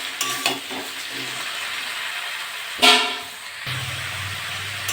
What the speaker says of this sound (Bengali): এটা আমি ভালো করে নেড়ে চেড়ে নিয়েছি।